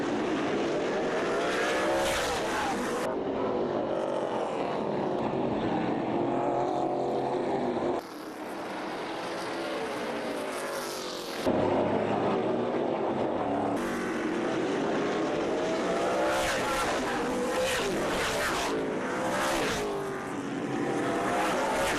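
Race cars lap Showtime Speedway with a continuous loud roar of engines, their pitch rising and falling as they pass. Abrupt shifts in the sound mark several cuts, and no voices are heard.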